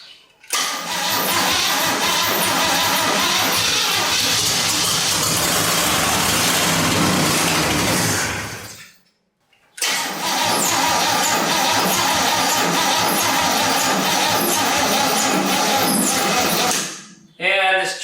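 A 1967 Chevy C10 stepside's swap-meet engine runs loud and close in two long stretches with a brief stop between, the idle rough and unsteady as it is coaxed to keep running.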